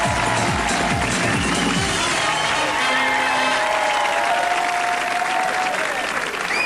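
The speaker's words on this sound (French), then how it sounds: "Je vous demande d'applaudir, s'il vous plaît" Television studio audience applauding to welcome a DJ, sustained loud clapping from a large crowd with some cheering and background music mixed in, unbroken for the whole stretch.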